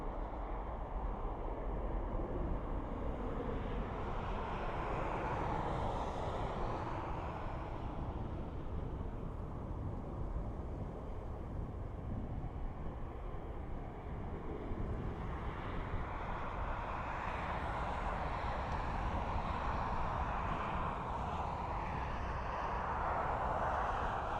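A jet airliner takes off at Dublin Airport with a sustained, broad engine roar that swells and shifts over about twenty-five seconds, heard from a distance with no talk.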